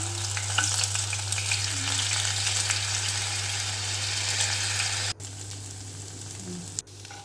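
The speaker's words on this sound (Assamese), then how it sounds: "আৰু এতিয়া এটা এটাকৈ জেলেপি বনাই যাম।" Jalebi batter fries in hot oil in a small kadai at home, giving a steady, close, dense sizzle with a low hum beneath and two brief breaks near the end.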